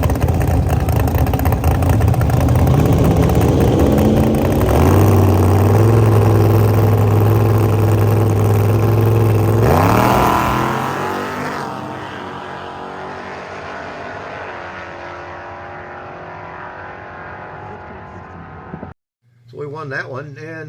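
A truck engine fitted with a Da Vinci carb, MSD distributor, MSD coil and 7AL-2 box, droning loud and close during a drag race run, rising sharply, then fading into the distance, with voices nearby.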